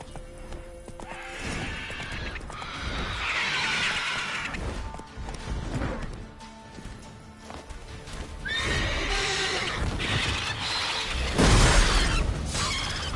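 Roach, a horse in The Witcher 3, gallops with steady clip-clopping hooves and lets out loud neighs and whinnies, with crashing, shattering impacts mixed into the busy game soundscape.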